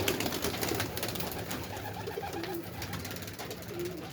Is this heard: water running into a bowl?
no